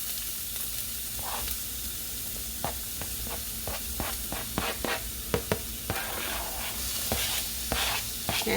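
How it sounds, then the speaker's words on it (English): Chopped onion sautéing in a pan for doctored store-bought Alfredo sauce, a steady close sizzle broken by scattered sharper crackles and pops, with no talking. "we're going to let that just saute just a little bit, just to get a little bit softened"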